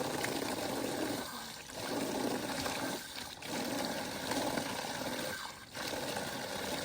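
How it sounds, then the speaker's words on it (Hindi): Cold running water splashes and pours steadily from a tap as someone washes their face in the morning in the Uttarakhand hills, with a few short breaks in the flow. "ठंडी ठंडी पानी से मॉर्निंग में मुँह धोते हैं"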